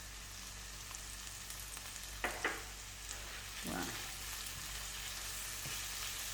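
Garlic frying in a pan gives a soft, steady sizzle, broken by a few brief clinks and scrapes of stirring partway through.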